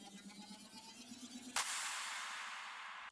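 A reversed effect in the intro of a dance track: a faint tonal hum gives way to a sudden bright, hissing wash that holds, slowly thins, then cuts off abruptly at the end.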